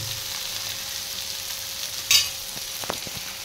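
Bombil (Bombay duck) fish frying in a pan, a steady soft sizzle with a sharp scrape as a piece is turned over, followed by a few light clinks.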